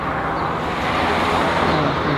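Steady, dense roar of car traffic passing along a road, a continuous close wash of engine and tyre noise with no clear gaps between vehicles and no voices.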